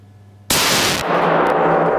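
An MR-155 semi-automatic shotgun fires a single loud, abrupt blast while being sighted in at a paper target outdoors, the report ringing and decaying into a rumbling echo.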